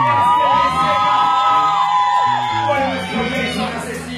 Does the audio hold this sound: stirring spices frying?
no